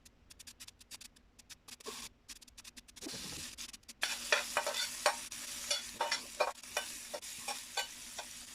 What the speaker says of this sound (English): Once you have your oil hot enough, you add your onions.